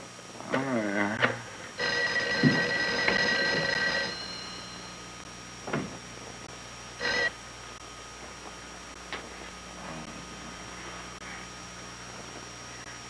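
A telephone rings unanswered indoors, a couple of bursts of bell ringing followed by quieter ticking and faint clicks in a hushed room.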